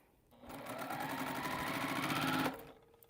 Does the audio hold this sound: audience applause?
no